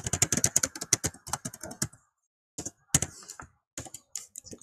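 Fingers type JavaScript code on a computer keyboard in quick bursts of close clicking keystrokes, broken by short pauses and a longer gap near the middle. No talking is heard.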